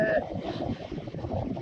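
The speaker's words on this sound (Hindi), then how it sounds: "यहाँ पे बहुत ठंडी हवा चल पड़ी है" Cold mountain wind blowing down from the Kashmir hills near Pattan makes a steady, loud, gusty rumble across the microphone for the whole stretch, with a muffled buffeting roar and no clear voice.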